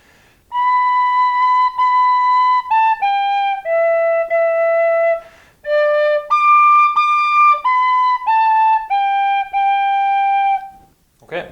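A traditional Irish tin whistle plays a slow tune of clear, sustained notes with short breaks between phrases, close and loud, alone without talk.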